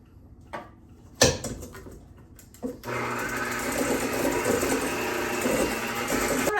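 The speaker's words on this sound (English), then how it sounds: "we're going to add some vanilla essence and we're just going to beat them up a little bit more" Electric mixer beating creamy cake batter with vanilla essence for an almond flour apple cake, a steady motor whir starting after a few handling knocks and running loud and continuous to the end.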